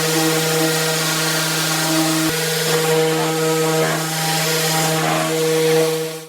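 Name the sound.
jigsaw cutting wood, then sander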